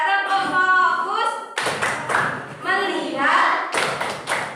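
Pupils in an Indonesian classroom perform a focus clapping chant: clusters of near, bright claps sit between stretches of group chanting, including children's voices.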